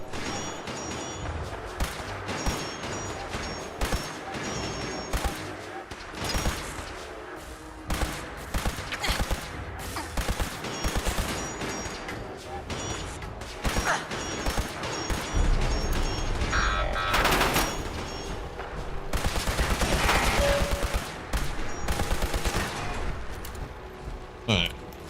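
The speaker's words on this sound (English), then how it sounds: "Yeah, definitely hearing the gunshots now." Gunfire in the video game Fallout 4: repeated sharp shots and rapid bursts crack out across the whole stretch, some near and loud, others farther off, with voices talking underneath.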